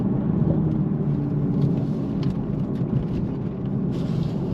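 A BMW Z4 M40i convertible with its 340 hp B58 straight-six drives on, giving a steady deep rumble that stays loud and close throughout, with wind and road noise mixed in and no talking.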